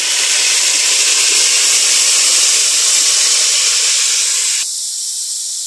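Loud, steady sizzling hiss of water added to a hot pot while cooking chicken pulao, close by, easing off slightly near the end.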